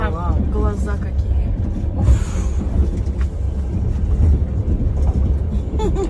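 Passenger train on the Surgut to Moscow route rumbling along with a steady low clatter inside the carriage, as people chat and laugh over the continuous rolling noise.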